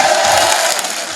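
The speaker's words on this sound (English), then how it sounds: "Everybody start screaming." A crowd at a recovery community event screaming and cheering together, a loud, continuous roar of many voices, close and sustained.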